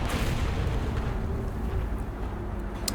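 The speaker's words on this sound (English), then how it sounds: "Double clicked when I dropped artillery there." Artillery strike in War Thunder, a loud, rumbling barrage of deep booms and crackling blasts filling the whole moment, close and continuous with no talk.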